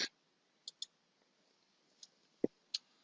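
Computer mouse clicks in the OneNote app come as a handful of sharp, quiet, isolated clicks spaced irregularly across near silence.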